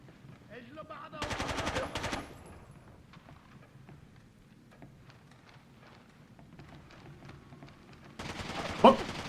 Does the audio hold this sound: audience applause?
no